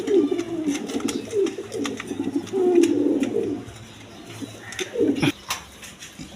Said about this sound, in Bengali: দেখেন কবুতর কি সুন্দর কবুতর